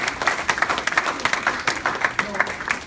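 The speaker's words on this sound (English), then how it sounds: "round of applause for Yudi." An audience claps at an event at Google headquarters, a rhythmic patter of many hands close by that keeps going under a voice.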